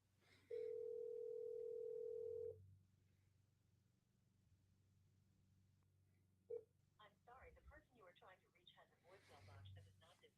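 Telephone call tones for an unanswered line with no voicemail set up: one steady two-second tone, a brief blip, then a voice talking over faint background hum.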